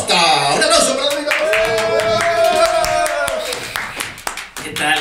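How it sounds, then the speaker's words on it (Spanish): Audience applause greets comedian David Acosta at a live comedy podcast taping, a dense, steady wash of clapping that runs nearly the whole time, mixed with music and voices, easing slightly toward the end. "¡Un aplauso para David"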